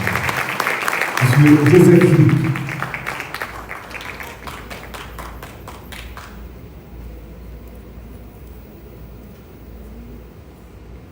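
Audience applause greeting the Prime Minister's introduction at a formal ceremony, a dense clapping burst over the first few seconds that thins into scattered claps and stops near the six-second mark, with a voice speaking over it.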